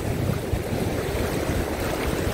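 Cold ocean surf washes in at the edge of a beach with dangerous pull, a steady loud roar of waves mixed with wind buffeting the microphone, no voices.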